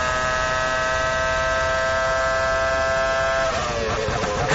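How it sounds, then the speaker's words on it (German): A Formula 1 car engine at the 2002 Malaysian Grand Prix, heard from onboard, holds a loud, steady high-pitched whine that shifts near the end; no one speaks. "Während Alex Jong, jetzt hören Sie es auch, glaube ich, gerade, auf seine erste Runde geht"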